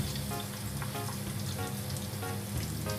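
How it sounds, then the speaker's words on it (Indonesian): Flour-coated tofu frying in hot oil, giving a steady close crackling sizzle with dense popping throughout and no talking. "Pastikan setelah dibalur tepung langsung masuk ke minyak panas."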